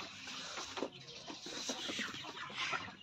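Several native chickens clucking and squawking close by, a busy, continuous farmyard chatter with short bursts throughout.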